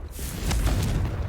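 A Confringo spell explosion in Hogwarts Legacy, one loud sustained fiery blast and rumble that fills the brief moment without fading.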